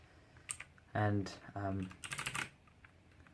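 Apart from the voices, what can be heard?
typing on a Motospeed Inflictor CK104 mechanical keyboard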